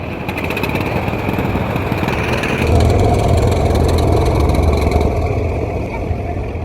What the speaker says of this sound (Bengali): পারাবাদ 11 ইঞ্জিন গতি কিন্তু এখনও ফুল স্পিড